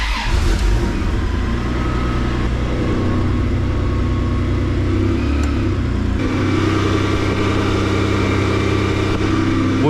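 A Toyota Land Cruiser 80 series engine runs loud and close with a steady mechanical drone, its pitch and load shifting partway through as it revs.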